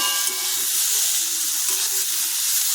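Mashed banana paste (kola bata) frying in a pan gives a steady, loud, close sizzle and hiss throughout.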